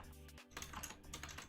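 Rapid keystrokes clatter on a computer keyboard, close and fairly quiet, in a dense run of clicks with a brief pause near the start.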